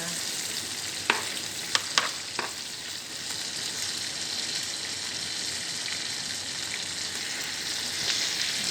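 Shrimp frying in butter, a steady close sizzle running throughout, broken by a few sharp utensil clicks early on and one near the end.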